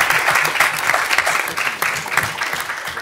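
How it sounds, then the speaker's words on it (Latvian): Audience applause at the close of a public debate on quick loans, a dense, steady clapping from a crowd with no voices on top. "liels aplausus"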